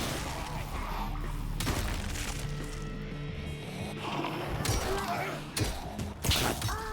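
Dense, chaotic Dead Island 2 combat with booming blasts and crashing impacts, several loud bursts layered over a constant rumble, with talk mixed in underneath.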